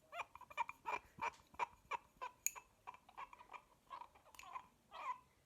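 Wet fingertips rub around the rim of a mug, giving a quick run of about a dozen short, squeaky, whining chirps in a steady rhythm, close and alone.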